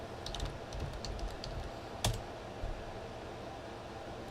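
Quiet keystrokes tap on a computer keyboard in a short uneven burst near the start, followed by a single sharper click and then a faint low room hum.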